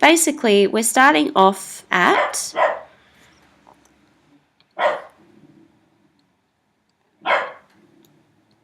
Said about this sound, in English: I do apologise for the barking dog.